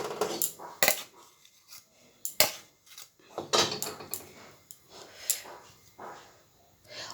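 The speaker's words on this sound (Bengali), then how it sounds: "এই যে দেখুন, থালটার মধ্যে উঠিয়ে নিচ্ছি।" Cooked banana-flower mixture is scraped onto a metal plate with a spoon, giving faint, scattered clinks and scrapes of metal on metal at an uneven pace, with quiet gaps between them.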